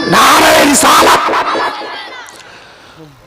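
A large crowd at an Islamic religious gathering in Baheri responds in unison to a preacher's call, a loud collective shouted chant that swells and then fades into scattered voices and echo.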